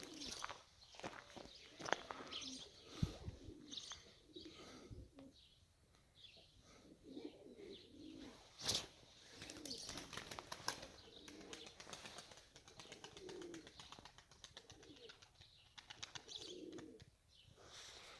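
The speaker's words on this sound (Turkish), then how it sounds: "Kuş iyice azmaya başladı." Pigeons coo softly amid scuffling, shuffling movement and occasional wing flaps in a loft, faint and cluttered, with no talking.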